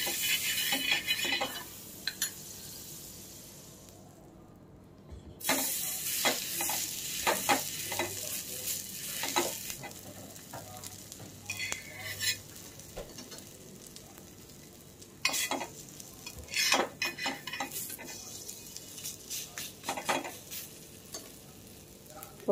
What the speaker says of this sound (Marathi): चपात्या ज्याच्यावर भाजल्या त्याच तव्यावर आता आपण हे रोल थोडे भाजून घेणार आहोत